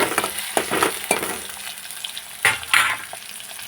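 Chopped onion goes into hot oil already tempered with cumin in a pan, bringing bursts of crackling sizzle and stirring scrapes, loud and close, with a few separate spatters and clinks.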